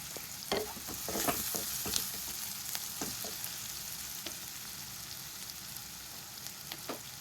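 Capsicum sautéed in a pan gives a soft, steady sizzle broken by frequent scraping stirs of a spoon against the pan, busier early on and sparser later.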